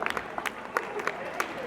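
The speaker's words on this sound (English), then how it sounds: "Another round of applause for Miss Mailani." Applause from an outdoor concert audience for a Hawaiian music performer, a short burst of scattered clapping with a few sharper claps standing out, moderately distant and mixed with crowd noise.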